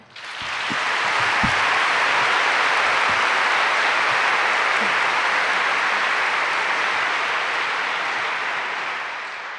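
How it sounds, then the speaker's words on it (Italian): An audience at a meeting talk gives a long, loud, even round of applause, rising quickly and sustaining as a thick wash of clapping before easing slightly at the end. "Se mi applaudite ancora prima che abbia cominciato, non comincio neanche"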